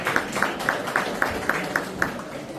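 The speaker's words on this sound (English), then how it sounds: "Let's give a round of applause for Miss Patricia" A small conference audience claps for a panelist at a Web3 leaders' event, a steady, moderate patter of hands with a few sharper individual claps landing at a regular beat.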